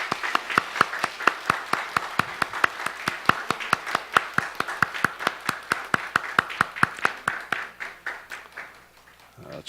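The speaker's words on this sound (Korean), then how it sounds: "여러분께서는 박수로 환영하시기를 바랍니다." A church congregation welcomes children after their baptism with steady, rhythmic clapping in unison, sharp regular beats close by that keep an even tempo for most of the span before trailing off softly at the end.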